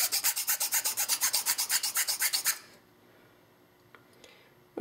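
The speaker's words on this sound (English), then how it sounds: "Take this and just file it down a little bit." A big file rasps down an airsoft masterkey part in quick rhythmic back-and-forth strokes, about twenty close, loud scrapes over two and a half seconds, followed by near silence and a few small clicks.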